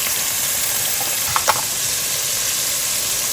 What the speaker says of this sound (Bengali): একটু ধনে গুঁড়ো একটু মশলাটা ভালো করে কষিয়ে নিই